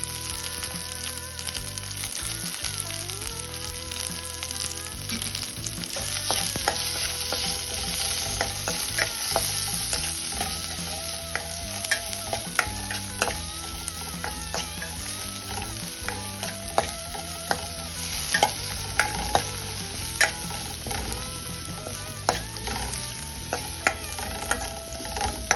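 Shallots, green chillies and curry leaves sauté in hot oil for injipuli, a loud continuous sizzle broken by frequent scraping stirs and clinks of a spoon against the pan.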